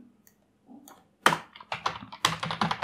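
Code is typed on a computer keyboard in a quiet room: a few soft taps first, then a quick, uneven burst of close, crisp keystrokes.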